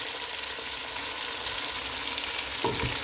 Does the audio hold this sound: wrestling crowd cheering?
no